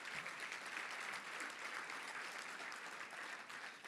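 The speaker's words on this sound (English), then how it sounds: "Let's give a big round of applause to them, if you would." A Little Rock Touchdown Club audience gives a round of applause, steady mid-level clapping from a room of people that holds evenly for several seconds.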